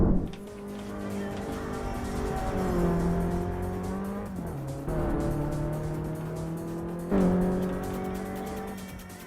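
A time-attack tuned Golf race car in a video game replay revs hard through gear changes, engine pitch climbing and dropping in several surges with faint tire squeal, steady and close throughout.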